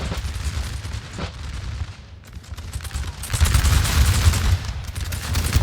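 Massed musket volleys crackle and roll in a Napoleon: Total War battle, a dense, continuous fusillade that dips briefly and then swells louder, with deep rumbling underneath and no speech.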